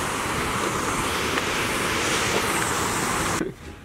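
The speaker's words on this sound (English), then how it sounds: "Now that's a waterfall." A waterfall in Yosemite National Park roars as a dense, steady rush of water, loud and close with some wind on the microphone. The sound cuts off abruptly near the end.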